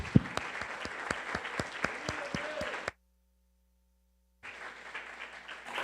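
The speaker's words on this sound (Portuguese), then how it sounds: "Pode aplaudir." Church congregation at a Sunday service breaking into applause, with sharp individual claps standing out over the crowd, then a sudden silent gap before clapping resumes.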